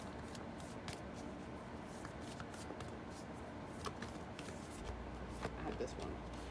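Tarot cards are shuffled by hand in a continuous soft riffling and sliding rustle, close and quiet, with speech present.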